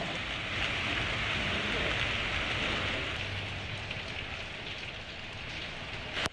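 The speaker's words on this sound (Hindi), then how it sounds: "जब हल्की बारिश और जालाबारी ने कोयटा को आ लिया" Light rain with small hailstones falls steadily in Quetta, a dense, even hiss of drops hitting surfaces that stays loud and unbroken throughout, with no other clear sounds over it.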